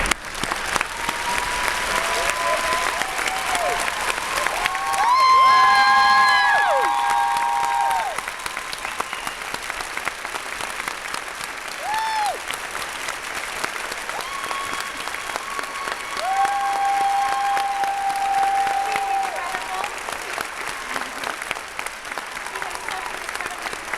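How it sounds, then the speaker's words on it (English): A crowd applauds a speaker at a fall launch event, with steady, dense clapping that carries on for a long stretch and short whoops and cheers rising over it. "Give her one more round of applause."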